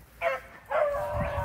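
Several dogs bark and yip in two close bursts, the second longer and rising into whining, as they are let out in the rain, loud and near without speech.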